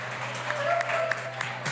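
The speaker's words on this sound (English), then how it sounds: "Give them a round of applause." Conference audience applause, a steady patter of clapping hands in a hall that sounds moderately distant, with a low hum underneath and faint voices mixed in.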